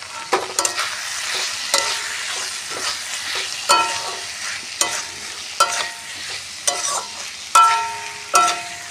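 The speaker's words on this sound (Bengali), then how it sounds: "এবং ভালো করে মিশিয়ে নিই।" Spoon scraping and stirring ground coriander and cumin in a frying pan, a steady run of brisk scrapes every half second or so over a soft sizzle, close and alone with no talking.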